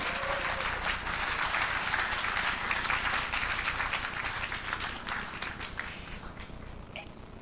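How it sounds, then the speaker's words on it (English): Sustained audience applause at a Korea peace conference in Washington, D.C., steady and dense for several seconds, then thinning out toward the end with a few scattered claps. "You can applaud."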